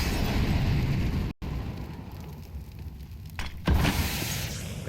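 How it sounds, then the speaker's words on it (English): A Molotov in a competitive Counter-Strike style match lands with a burst and then a sustained fiery roar, over dense in-game ambience that cuts out briefly before a second loud flare of noise. "Have a Molotov,"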